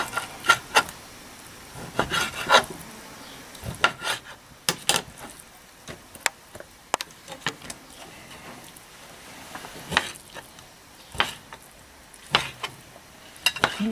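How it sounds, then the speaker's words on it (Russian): A knife cuts meat into squares for shashlik, giving scattered short taps and scraping rubs against a board, irregular and fairly quiet, with brief gaps between strokes. "Режем квадратиками."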